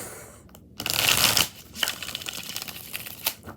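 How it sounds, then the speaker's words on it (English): Tarot cards being shuffled by hand, a loud papery riffle burst followed by softer repeated flicks and slides of the deck, close up and alone. "3 more shuffles."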